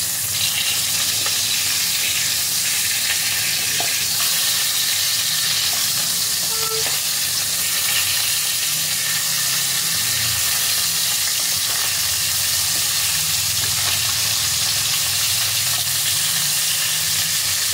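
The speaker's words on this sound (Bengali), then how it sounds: "মাছগুলোকে এবার উল্টে পাল্টে হালকা লালচে করে ভেজে নিতে হবে।" Fish fried in oil, turned partway through: a steady, close sizzle and crackle of hot oil runs throughout, with occasional faint scrapes and stirring sounds and no voices.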